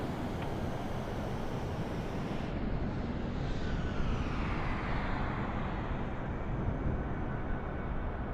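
A plane in Microsoft Flight Simulator 2024 makes a steady broadband roar as it flies past. The rushing, wind-like noise shifts a little in tone partway through and stays loud from start to end, with no talking.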